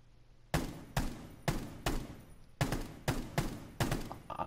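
Bursts of gunfire in a tactical shooter video game's hostage-rescue mission, about eight sharp broadband shots in a fairly regular rhythm, loud and close, with no talk over them.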